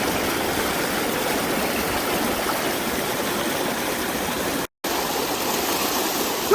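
Water pouring and splashing at the Pamukkale thermal pools in Turkey gives a constant close rushing hiss, broken by one brief cut of silence, with no talk.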